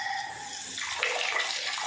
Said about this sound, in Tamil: ஐயா சுவிட்ச் போட தண்ணி வருது.